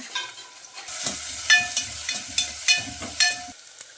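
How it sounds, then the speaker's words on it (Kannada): Onions frying in hot oil for a Mangalore cucumber curry give a steady close sizzle broken by several sharp scraping stir strokes at a roughly regular pace. "ಈರುಳ್ಳಿ ಚೆಂದ ಕೆಂಪು ಬಣ್ಣ ಬರೋ ತನಕ ಫ್ರೈ ಮಾಡ್ಕೋಬೇಕು"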